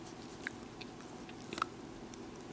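A nine-week-old Mini Australian Shepherd puppy chews in a lap, giving faint, close, irregular wet gnawing and small bites over a quiet room, with no talking.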